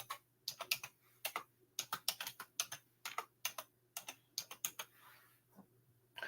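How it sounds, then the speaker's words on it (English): Keys on a computer keyboard are struck in quick clustered bursts with short pauses, crisp and close, with no talking. "I keep typing on the wrong computer"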